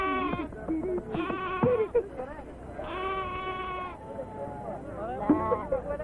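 A lamb at a sheep market bleats several times, drawn-out wavering cries that come and go close by, some overlapping, over a quiet background.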